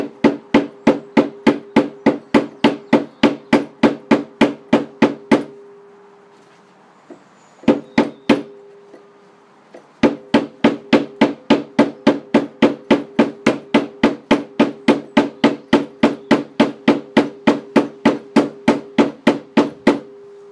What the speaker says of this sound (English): tap the bolt while I'm messing with it, moving it backwards and forwards